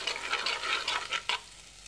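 Spice paste for a fish curry sautés in oil: a close, bubbling sizzle with repeated scraping stirs, louder in pulses and then easing off, with no voices.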